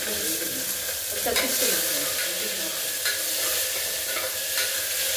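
Mint leaves and green chilies fry in a pan for Telangana mutton curry, a steady close sizzle with stirring scrapes throughout and a brief spoken word.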